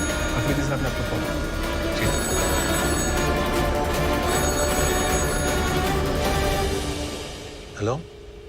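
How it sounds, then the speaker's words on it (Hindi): A telephone bell rings repeatedly in steady bursts over background noise and voices, stopping shortly before the end. "अफरीदी साहब ने आपको फोन"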